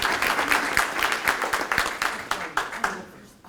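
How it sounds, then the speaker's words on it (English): A seated audience claps for a panel at the start of a talk event, brisk and fairly loud at first, then thinning to scattered single claps that fade away. "Let's give our panel a round of applause as we get started"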